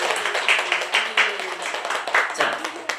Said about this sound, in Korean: 우리 감사하고 박수하겠습니다